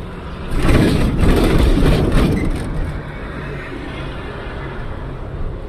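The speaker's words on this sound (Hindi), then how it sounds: "ये सामने वाला ट्रक देखो, ये वाला कैसे चढ़ रहा है भाई।" Engine of a heavily loaded truck climbing a hill, a low continuous rumble that swells loud for a couple of seconds and then settles into a steadier, quieter drone, heard alone.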